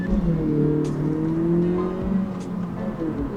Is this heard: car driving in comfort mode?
yes